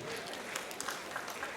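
A stand-up comedy audience claps in faint, continuous, dense applause with a few sharper claps standing out near the end.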